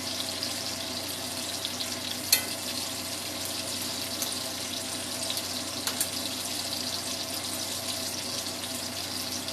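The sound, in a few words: sausages frying in a pan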